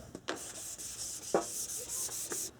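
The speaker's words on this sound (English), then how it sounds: "Now I'm just giving this back panel a quick wet sand before painting." A primed back panel of a vintage Shasta camper trailer is wet sanded by hand, giving a soft, close rubbing hiss in several quick back-and-forth strokes.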